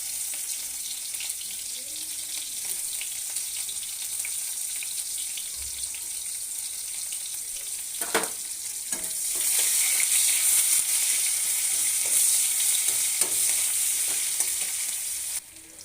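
Onion frying in hot oil in a kadai, with a steady close sizzle and a few stirring scrapes. The frying grows louder and brighter partway through, then stops abruptly at the end.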